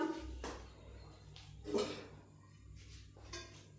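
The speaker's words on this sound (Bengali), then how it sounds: "কড়াইটা চুলার উপর দিলাম।" A metal wok set down onto a home kitchen stove, giving a few soft clanks and scrapes, close by in a quiet room.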